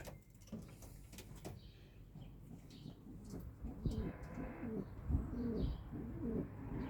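Soft, repeated cooing of racing pigeons in a loft, several low burbling calls overlapping near the end, with faint chirps and a quiet room background and occasional distant voice.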